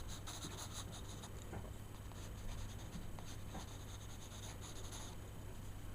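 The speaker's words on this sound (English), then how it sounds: "I'm sketching the concept in." Pencil scratching and rubbing across paper while sketching a drawing of a creature, quiet and close, with steady strokes and short back-and-forth scribbles throughout.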